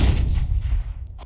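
A flashbang grenade detonates in CS:GO, a loud, booming blast with a heavy low rumble that fills the moment and then cuts off, followed by a brief second burst.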